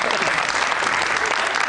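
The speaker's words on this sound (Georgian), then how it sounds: "აპლოდისმენტები გიორგი ედიშერაშვილს." Studio audience on a Georgian late-night talk show applauding a guest, Giorgi Edisherashvili, with steady, dense clapping filling the whole moment at close, even loudness.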